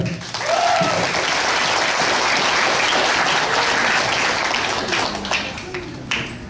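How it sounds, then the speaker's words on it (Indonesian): Audience applause at the close of a university student seminar session on stress management, a dense steady wash of many hands clapping at even loudness throughout, with a brief voice at the start. "mari kita beri aplaus untuk para narasumber"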